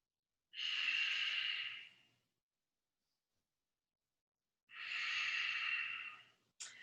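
Two long, slow breaths held steady during a yoga pose in an advanced vinyasa flow, each airy exhale lasting over a second with a quiet gap between, close and soft, with no talking.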